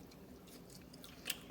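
Biting into and chewing a homemade fried potato chip, a quiet close crunch with a sharper crisp snap near the end, over a faint background hiss.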